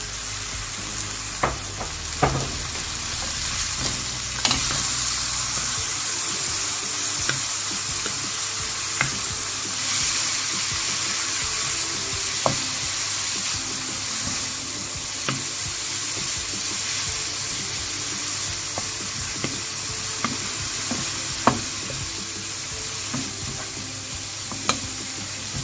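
Four grated carrots fry in a pan with a steady close sizzle and hiss, while a spatula stirs them in frequent light scraping taps against the pan.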